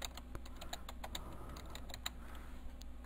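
Typing on a computer keyboard in a materials editor: a steady run of quick, light clicking keystrokes, fairly close and clear, with no talking over them.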